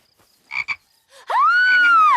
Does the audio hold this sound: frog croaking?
yes